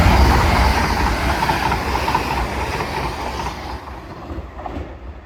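A Class 802 train passes close by at Earlestown station, a loud rolling roar with clickety-clack that fades away toward the end.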